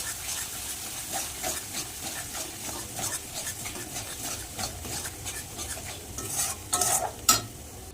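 Spiced catla fish curry paste with strained yogurt stirred and sautéed in a pan, with a steady frying hiss and repeated scraping strokes of a spoon, a few louder clatters near the end; no talking.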